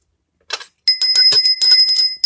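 A small brass Ganesh bell is shaken, giving bright metallic jingling strikes in quick bursts with short pauses between them, loud and close with no talk.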